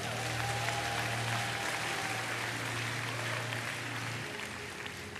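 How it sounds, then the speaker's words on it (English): Congregation applause during a church preaching session: dense, steady clapping from a large crowd filling the whole stretch, with a low sustained organ or keyboard tone underneath and no talk. "I think you should give them a great round of applause."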